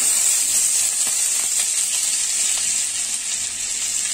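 Butter sizzling and frying in a pan while butter chicken is cooked, a steady close bright hiss with faint crackles running throughout.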